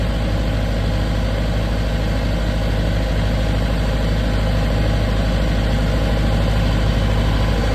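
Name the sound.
40 kVA diesel generator engine running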